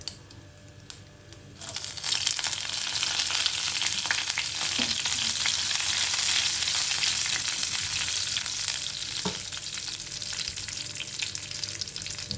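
Dried red chillies hit hot oil and burst into a loud, dense, crackling sizzle that starts abruptly after a quieter moment and carries on steadily up close, with a couple of faint knocks partway through.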